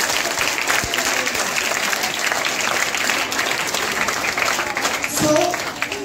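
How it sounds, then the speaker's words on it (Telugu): Students in a free coaching class hall clap together, a sustained round of applause from a crowded room, with a voice speaking over it near the end. "నమ్మితే క్లాప్స్ కొట్టాలి."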